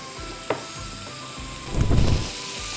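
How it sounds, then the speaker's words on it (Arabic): Lamb tail fat sizzles and spits in a hot pan while being stirred, a steady frying hiss with a sharp tap around the half-second mark and a louder burst of crackling scraping midway through, close up with no talking. "وهلا بنحرك اللية"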